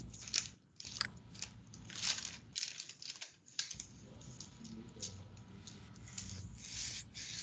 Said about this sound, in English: let me take my little sanding tool